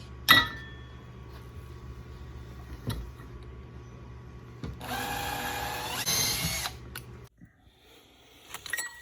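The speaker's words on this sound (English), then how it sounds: "I'm gonna drill these out to 25/64." A power drill whirs steadily for a couple of seconds in a quiet room, bracketed by a few sharp clicks and knocks, drilling center-punched holes out to 25/64 inch during a diesel fuel kit install on a 1996 Ford F-250.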